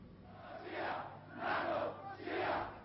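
A large crowd protesting in Athens against the United States in 1974, chanting in three rhythmic rising waves, distant and muffled.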